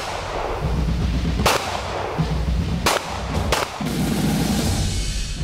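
Soldiers fire guns at army shooting practice, four sharp loud cracks spaced irregularly, two of them in quick succession, over continuous outdoor rumble.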